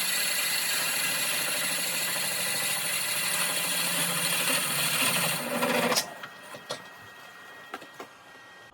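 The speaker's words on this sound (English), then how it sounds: "I'm going to use my Stihl Sinner hollowing rig for this." Burl vase being hollowed on a wood lathe with a hollowing rig and a small 3/16 inch square cutter, a steady loud grinding whir that cuts off abruptly, leaving scattered faint knocks and clicks.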